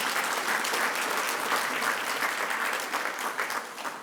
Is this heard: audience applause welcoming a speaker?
yes